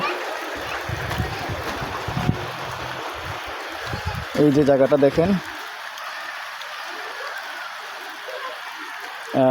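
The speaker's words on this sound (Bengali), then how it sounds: "যেহেতু বৃষ্টি পড়তেছে" Steady rain hisses across a wide area as someone talks over it, with a burst of louder drumming in the middle.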